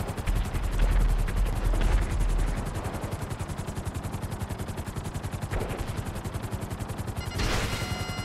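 Helicopter in GTA Online with rapid gunfire, a steady fast rotor chop and dense bursts of shots running throughout, louder at first and then holding steady, with no talk.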